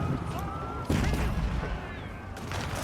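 Cannon fire in an Age of Empires 4 battle booms in sharp reports, one strong hit near the start of the second second and another late, over a busy bed of battle noise.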